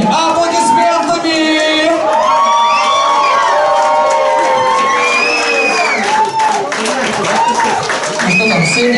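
A large crowd claps and cheers loudly and continuously, with whoops and children's shouts rising over the applause.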